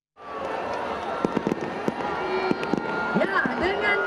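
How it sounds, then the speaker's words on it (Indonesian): Fireworks at the closing night of Jakarta Fair 2025 crackle and pop in quick bursts of sharp bangs over a busy crowd, with people talking and calling out throughout. "Pesta Kembang Api memeriahkan penghujung gelaran Jakarta Fair 2025."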